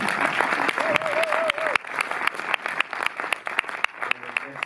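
A cinema audience claps steadily and warmly after a film screening, a dense patter of applause with a few louder claps close by and brief voices underneath.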